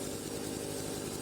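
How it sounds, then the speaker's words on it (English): Chainsaw engine running steadily in a logging roleplay video game, a continuous buzzing drone that holds an even level throughout the short stretch, with no talking. "Now, let me show you the chainsaw."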